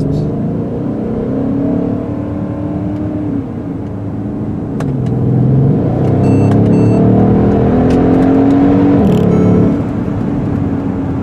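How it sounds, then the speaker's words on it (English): A 2015 Mercedes-Benz ML63 AMG engine and exhaust rev loudly and up close in Dubai, rising and falling through several throaty surges with brief crackles between pulls. "now let's listen one more time to the engine before we say goodbye to the exhaust"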